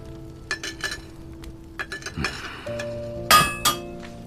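A blacksmith's hammer strikes copper and iron in a series of sharp, ringing metallic clinks, irregularly spaced and close, with a brief scraping shuffle partway through.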